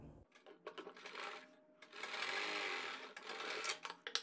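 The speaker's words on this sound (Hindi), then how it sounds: "और मिलाकर रखने के बाद में 1/4 इंच चौड़ी सिलाई लगाएंगे।" A sewing machine runs a quarter-inch seam along a sleeve: close mechanical whirring in two sustained runs broken by short pauses and clicks, with no talking.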